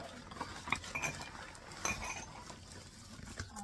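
Ceramic plates clink and knock together as they are handled and stacked in a kitchen, a few sharp clatters standing out over low background rustle, close by.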